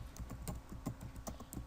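Quick, light keystrokes on a computer keyboard patter in an irregular rhythm, a dozen or so soft clicks close by with a few sharper taps like an enter key, no voices.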